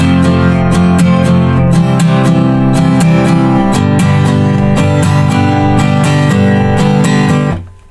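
An acoustic guitar plays the third chorus of a song, with loud, close, evenly strummed chords in a steady rhythm for several bars before stopping abruptly.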